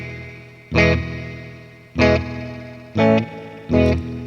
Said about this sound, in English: then we have a long feedback, so that repeat repeats and repeats and repeats over and over, then it starts to sound like a reverb giving us multiple reflections.